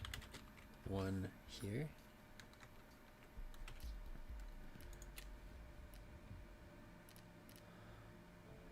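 Keys clatter on a computer keyboard in bursts of close, quick typing, with light clicks scattered through the rest. A short spoken phrase breaks in near the start, and a low steady background hum runs underneath.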